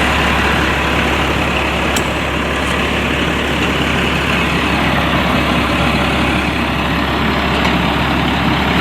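Delivery truck hauling roof trusses to a cabin build site, its engine running loud and close with a steady deep rumble and a constant idle that holds throughout without a break.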